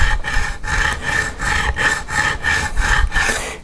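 A leveling tool is rubbed back and forth across the frets of a Donner Strat-style guitar neck. It makes a steady rhythmic scraping of about eight loud, close strokes, with no talk.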